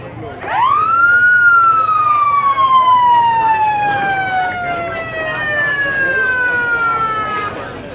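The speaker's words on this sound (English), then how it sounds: "All right, let's sound the horn." An air horn blasts at a speedway to start a pit stop race, one long loud held tone that slowly sags in pitch over about seven seconds, with crowd and track noise underneath.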